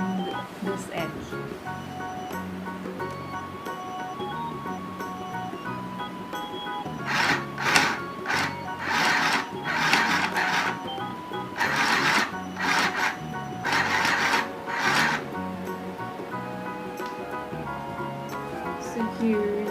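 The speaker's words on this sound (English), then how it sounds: "We're going to sew all along this edge." A sewing machine stitches along the edge of a fabric mobile cover, its rapid mechanical whirring coming in several short bursts under a background of music and moderate room noise.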